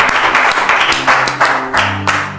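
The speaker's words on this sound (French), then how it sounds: "Ça mérite des acclamations." Applause and cheering from an audience at a church gathering, a dense burst of clapping with bright impacts swelling in waves over about two seconds, loud and close, with a few voices and musical tones underneath.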